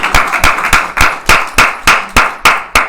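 An audience at a spiritual discourse claps loudly in unison, with sharp, evenly spaced claps landing in a steady rhythm about three times a second.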